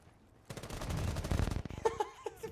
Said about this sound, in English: Everybody was shooting at him.